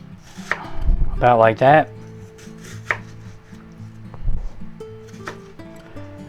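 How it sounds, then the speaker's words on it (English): Knife chopping vegetables for a roast beef sub with peppers and onions, a run of quick near chops on a cutting board followed by scattered single knocks, with a voice speaking briefly. "what we're going to do is we're going to chop this up"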